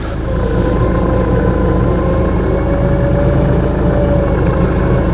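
An off-road vehicle's engine idles steadily, a loud, low, even rumble close by with a constant hum and no talking.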